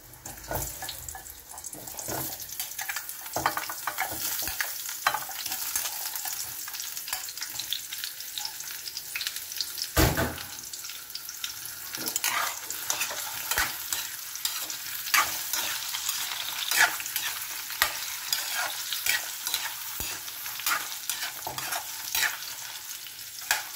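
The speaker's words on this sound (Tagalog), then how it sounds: "So, ayan, prito po natin dyan ang ating" Beef shank sizzles and crackles steadily in a hot pan, a continuous frying hiss with occasional sharper pops and stirring clatter.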